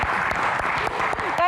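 Audience applause for a singer at a Q&A event, a dense steady patter of many hands clapping throughout a brief burst, with a voice speaking over it near the end.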